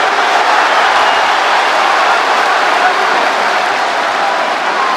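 A UFC arena crowd roars with steady, dense cheering during a fight between Islam Makhachev and Dustin Poirier, a loud, unbroken wash of noise holding level for the whole stretch.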